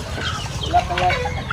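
A rooster and other chickens cluck and call on a chicken farm, short fowl calls rising over a busy, steady farmyard background at close range.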